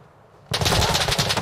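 Rapid automatic gunfire in an online shooter video game, starting abruptly after a quiet half-second and continuing loud and dense in fast bursts.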